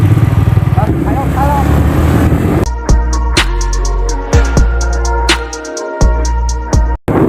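A motorcycle rides along a road near Pobitora in Assam, its engine drone steady and close with wind rushing past, and a voice talks over it.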